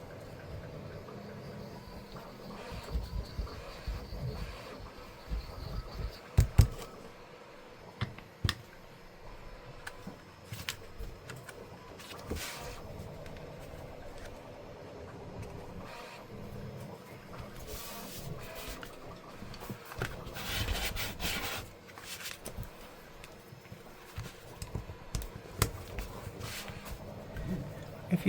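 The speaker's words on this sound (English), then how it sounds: "If you hear some weird rumbling in the background, that's just a 3D printer." A 3D printer rumbles as it prints, a continuous low mechanical drone with scattered clicks and brief sharper bursts running steadily for nearly half a minute.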